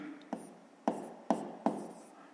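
A pen or chalk taps and scratches out a handwritten math solution for a fifth-grade exercise, four sharp strokes close by, each with a brief scraping tail.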